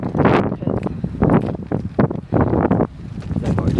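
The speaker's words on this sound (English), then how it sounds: "It's so windy. It's been windy forever." Gusty wind buffets the microphone in loud, uneven bursts, roaring and dropping away, with no clear voices over it.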